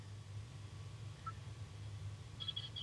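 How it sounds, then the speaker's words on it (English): A mobile phone rings faintly during a morning TV interview, short electronic tone bursts near the end over a steady low hum, with no talking. "my phone's ringing, so it could be anyone"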